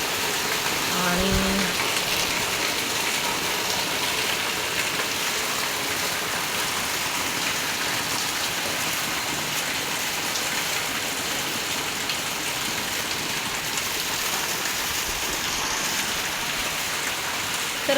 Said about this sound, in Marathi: तर बघा पाऊस पडतोय